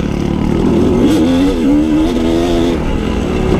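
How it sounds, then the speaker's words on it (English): A motorcycle engine runs loud and close, its pitch rising and wavering as it revs over a constant drone, with no one speaking. "Bike's running good."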